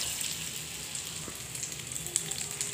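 Helencha greens pakoras frying in a small amount of oil, a steady bright sizzle and crackle with occasional sharper pops, close and continuous with no talking.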